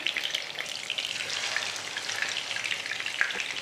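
Chicken and egg patties fry in a pan over a medium flame, giving a steady, close crackling sizzle that runs unbroken and fairly loud with tiny pops throughout.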